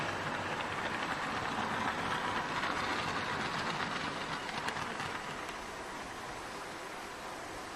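A GWR King Class steam locomotive runs at a Great Western Railway festival, giving a steady, fairly distant rush of train noise with faint rhythmic chuffing that slowly fades.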